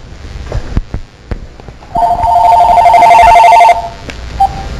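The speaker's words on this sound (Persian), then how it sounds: "یک لحظه اجازه بدید من این تلفن ببینم کیه" A telephone rings during a Persian TV broadcast, a loud, steady electronic trill lasting almost two seconds, then a short chirp. Scattered clicks and knocks come before it.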